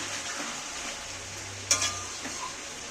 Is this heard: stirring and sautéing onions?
yes